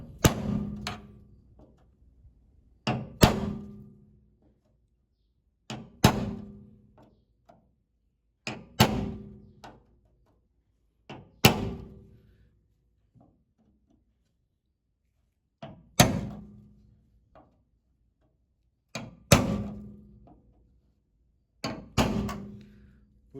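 Center punch struck by a hammer into the sheet-metal engine bay of a 1973 Chevrolet Opala, giving eight sharp metallic taps spaced about three seconds apart, each ringing briefly, close and clear with no talk.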